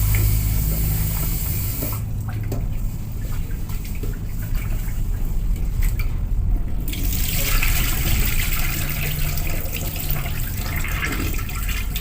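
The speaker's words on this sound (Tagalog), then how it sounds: "Kasi kailangan guys lamasin ang bigas," Rice grains being washed by hand in water, a steady wet swishing and sloshing with running water underneath, briefly quieter and muffled before the splashing picks up again.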